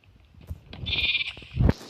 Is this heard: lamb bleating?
yes